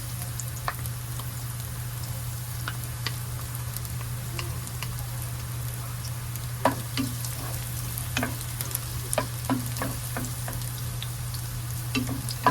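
Garlic sautéing in hot oil in a pan, a continuous sizzling hiss with scattered crackles and pops from stirring, over a steady low hum.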